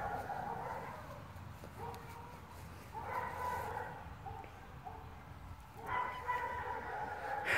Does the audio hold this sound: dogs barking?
yes